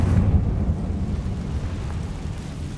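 A Confringo blasting spell explodes in Hogwarts Legacy, a single deep rumbling boom that hits hard at the start and then rolls off into a low fading roar.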